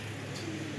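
A single pigeon gives a brief, soft coo nearby, a short low murmur standing alone without any talk.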